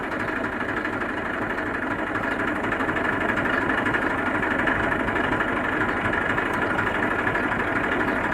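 An Eicher 380 diesel tractor engine idles close by, a steady rapid chugging thrum with metallic rattle that never changes pace.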